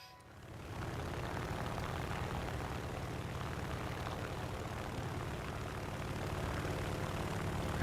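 Droning propeller aircraft engine of an enemy plane in a naval combat video game, a steady, fairly loud hum with rumbling low tones that holds throughout without any talk.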